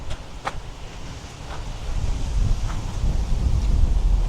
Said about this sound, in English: It's way too windy.